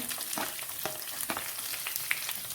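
Mustard seeds and chopped onions frying in hot oil for a tempering, a quiet, steady sizzle with a few faint crackles and stirring scrapes, close and without talk.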